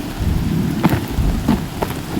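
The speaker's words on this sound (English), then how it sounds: "Rain's not so bad." Heavy rain pours steadily in the video game Horizon Zero Dawn, a dense close wash of falling water with low rumbling and scattered spattering drops.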